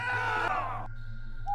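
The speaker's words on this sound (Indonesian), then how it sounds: "tiba-tiba terdengar suara pekikan lelaki" A man's anguished scream used as an audio drama sound effect, loud and close, rising then breaking off abruptly into a low steady hum.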